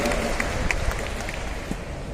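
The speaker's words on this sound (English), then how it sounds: "You take us a dialogue now, we can clap for her" Crowd applause for Madhuri Dixit at the International Film Festival of India closing ceremony in Goa, a steady, dense wash of clapping from a large audience with a few sharper hand claps standing out.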